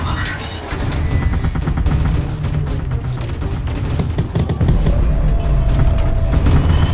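Sentry gun firing armor-piercing rounds in the video game Artificial Extinction, a loud, continuous clatter of rapid gunfire with heavy booms layered underneath.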